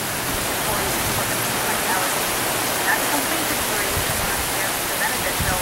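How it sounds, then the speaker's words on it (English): Storm wind and heavy rain blow in from the south at an open tiki hut, making a dense, loud, continuous roar of wind-driven water that fills the whole stretch. "And there are some killer storms coming. And it's blowing from south to north with a little wind to the east."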